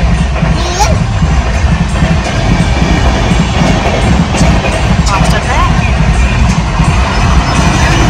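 A train rolls past with a heavy, continuous rumble and rattle that lasts throughout, close and loud, while people talk over it.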